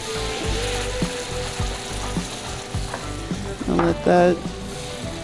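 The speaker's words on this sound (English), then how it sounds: "butter cook down and melt" Butter melting in a hot pan with a Worcestershire sauce-seasoned sauce, a steady close sizzle and frying crackle running throughout with a few brief louder bursts near the end and a voice speaking briefly.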